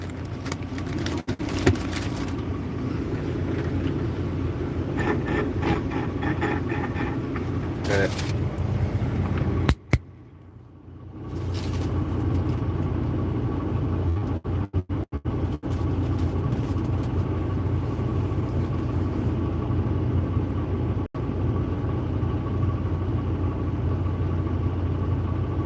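A manual truck with an Eaton transmission drives along with a steady low engine rumble. The drone dips briefly partway through, then settles back in, and voices may be heard faintly in the cab.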